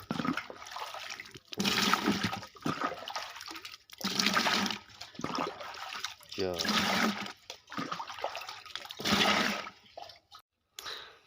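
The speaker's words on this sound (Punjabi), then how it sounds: "ਪਾਣੀ ਦੇ ਪਾਵਾਂਗੇ ਡੱਬੇ ਚੱਕ ਜਾਂ ਬਾਲਟੀ ਚ" Water is poured into a container or bucket on a farm to mix a spray solution, coming in several loud gushing bursts separated by short pauses, with a person talking in between.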